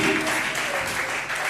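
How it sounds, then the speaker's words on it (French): A congregation at a church baby presentation ceremony claps in sustained, dense applause for the full length, loud and close, with a few voices mixed into the crowd noise. "On peut acclamer pour la destinée glorieuse de Dieu."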